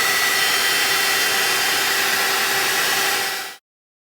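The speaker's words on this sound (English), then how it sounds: "I'll swish it around a bit with the blower, or heat gun, I should say, the blower." A heat gun blows steadily to dry watercolour paint, a loud, continuous whooshing hiss with a faint motor whine, held close and alone before cutting off abruptly.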